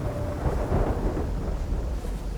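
Rain beginning to fall during a thunderstorm on a tropical island, a dense, loud roar of thunder rumble and downpour filling the whole moment without pause.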